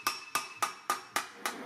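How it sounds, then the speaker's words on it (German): Six light, evenly spaced planishing hammer taps ring on sheet metal, each a sharp metallic strike with a short decay. "Der Kletterhammer wird mit weichen Hammerschlägen angewendet."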